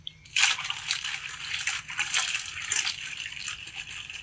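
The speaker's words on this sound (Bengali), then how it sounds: "এটা ফাইনাল ধুয়ে দেবো এবারে ফ্রেশ জলে।" Cleaned Sundarban crabs are rinsed in fresh water, with steady sloshing and splashing close by that runs continuously after a sudden start.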